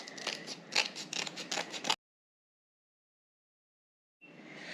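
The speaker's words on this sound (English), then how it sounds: "now I'm going to take my scissors and trim up the edges here" Scissors trim the edges of homemade mushroom paper in a run of quick, close snips, followed by a silent gap before a final brief rustle.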